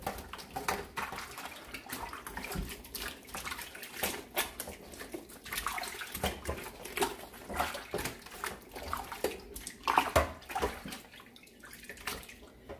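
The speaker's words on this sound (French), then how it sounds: "un sac des abats que je vais vider dans l'eau vinaigrée pour les nettoyer aussi" Turkey giblets rinsed in vinegar water, with continuous sloshing and splashing, rubbing and running water close by in irregular surges, fairly quiet throughout.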